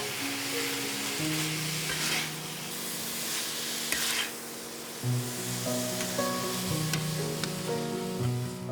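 Onions stir fry with beef and herb paste for Cambodian cha kroeung, a steady close sizzle in a hot pan broken by occasional scrapes and stirs, with faint tonal background music underneath.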